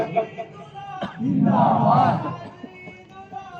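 A crowd chants slogans in unison at a religious gathering honouring a Sufi saint, a loud sustained burst of massed voices rising from quieter background sounds and fading after about a second and a half.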